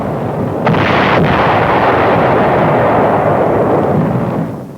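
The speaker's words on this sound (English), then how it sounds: "B-25s and P-51s strafe and bomb the island. Rocky Caballo hillsides are thoroughly pounded." Heavy bombing and artillery shelling pound the rocky hillsides of Caballo Island in World War II combat footage, heard as a continuous loud roar of blasts with a couple of sharp reports near the start, and no voices.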